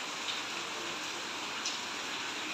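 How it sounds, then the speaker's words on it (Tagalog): Heavy rain falls in a dense, even hiss, steady and moderately quiet with no pauses and no voices. "Lakas ng ulan"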